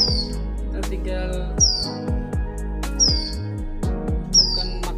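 Close, high-pitched chirps from a hand-fed Ciblek Gunung chick arrive in four separate bursts, mixed with low thuds and bumps from the feeding.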